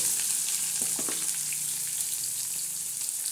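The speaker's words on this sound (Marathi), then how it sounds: "आता हा चांगला कढीपत्त्याला तडका बसतो" Curry leaves and onion frying in hot oil give off a steady, soft hiss with a few brief crackles and spits near the start, heard close and alone without talk.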